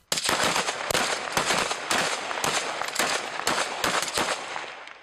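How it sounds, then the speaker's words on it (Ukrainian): A rapid series of sharp, loud gunshots fired into the sky at checkpoints, cracking in irregular bursts, about a dozen reports over several seconds with short gaps between them. "Так з ним прощалися на блокпостах пострілами у небо."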